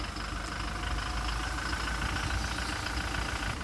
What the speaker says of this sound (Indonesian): Suara dieselnya juga masih sama karena mesinnya yang digunakan juga sama